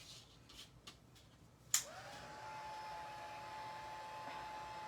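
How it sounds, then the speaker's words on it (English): Craft heat tool blowing to dry ink on a watercolour background, switching on with a sharp click and then holding a steady, close whooshing hum after a few faint taps. "I'm just gonna use my heat tool. It's just gonna be loud for 1 second."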